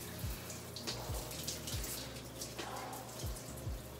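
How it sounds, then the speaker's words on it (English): Cold shower water running steadily, a broad continuous spray and hiss with a few low thumps, close and unbroken for the whole stretch with no talking. "I'm actually gonna go take a cold shower right now"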